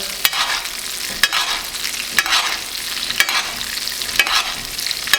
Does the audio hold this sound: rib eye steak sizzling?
yes